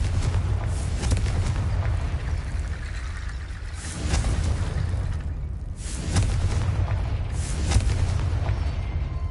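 Confringo blasting spell explosions in Hogwarts Legacy on PS5, a dense run of heavy booming blasts with rumbling low end, swelling again at several points across the stretch with no voices.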